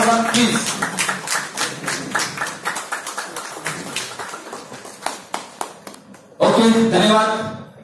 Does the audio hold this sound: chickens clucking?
no